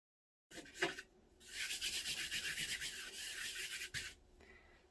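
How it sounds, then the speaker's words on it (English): A pencil portrait drawing on paper is rubbed to blend it, giving soft, close, dry scrubbing strokes in quick rhythmic bursts, two short rubs followed by a longer continuous stretch, with no talk. "Then I'm going to rub his face out like that."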